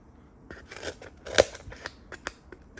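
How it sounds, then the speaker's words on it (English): Scissors snip through cardboard in a quick series of sharp, close cuts, one louder crunching snap standing out among the lighter clips. "Yes, they can cut cardboard."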